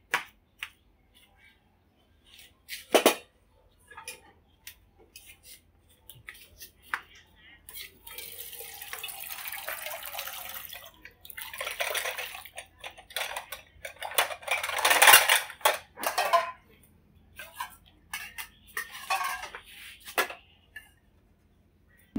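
Water poured into a cooking pot and a bowl set inside for steaming stuffed squash in a kitchen, scattered clinks and knocks of dishes around a stretch of running, splashing water, fairly close and moderate in loudness.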